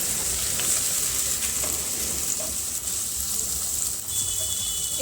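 Chopped chillies and tomatoes go into a hot frying pan for a radish and potato dish and hiss in a steady, close sizzle as they are stirred, with a few soft scrapes.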